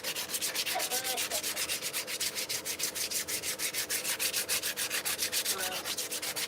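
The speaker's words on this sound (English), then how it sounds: "And now we take the sandpaper and we go over this like this." Sandpaper rubbed by hand over engine parts of a paper model, a close, steady rasping scrape repeating in quick even back-and-forth strokes with no voices.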